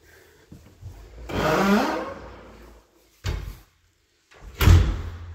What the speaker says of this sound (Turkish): Çelik kapımızı kapattıktan sonra